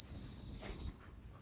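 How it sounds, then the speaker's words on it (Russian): A long, steady high-pitched whistle is blown for puppy recall training, holding one clear tone for nearly a second before cutting off, fairly loud and alone. "Вот так вот делаем протяжный такой свист"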